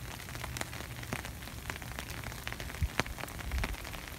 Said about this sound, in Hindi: जून का महीना और लगातार बारिशें हो रही हैं